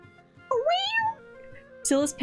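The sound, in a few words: cat meowing, from the video game Sigh of the Abyss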